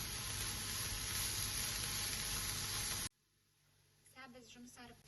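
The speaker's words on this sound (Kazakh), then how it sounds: "Сәбіз жұмсарып піскенше қуырып аламыз." Carrots frying in a pan with salt and black pepper give off a loud, dense sizzle that cuts off abruptly partway through; a faint voice follows in the quiet.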